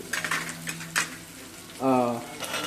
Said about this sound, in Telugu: సో ఉల్లిపాయలు ఎర్రగా ఫ్రై అయ్యేంత వరకు వేయించేసుకుందాం